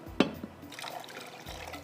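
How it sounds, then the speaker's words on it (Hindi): A little water is poured into a cooking pot on a stove, giving a short close splash and then a brief gurgling fill with no talk. "थोड़ा सा पानी और इसमें जाएगा"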